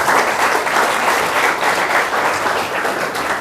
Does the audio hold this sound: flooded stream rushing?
no